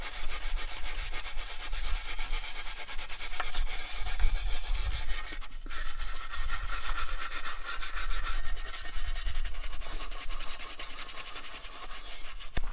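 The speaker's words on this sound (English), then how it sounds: "we went ahead and sanded out some of these rough spots" Steady, continuous sandpaper rubbing on a 1991 Acura Integra valve cover, smoothing rough spots after the paint was stripped. The scraping stays close and even throughout, with no voices.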